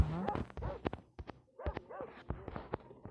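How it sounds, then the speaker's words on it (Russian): A dog barks several times in the horror video game Metel, chapter 1, a series of short, fairly close yelps and barks with brief gaps between them. "Лает какая-то собака."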